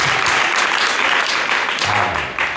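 A church congregation bursting into loud, dense clapping, sustained and close, with a slight swell near the end.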